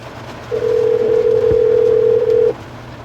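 A steady, single-pitched dial tone from a desk phone holds for about two seconds, starting and stopping abruptly over a faint background hum.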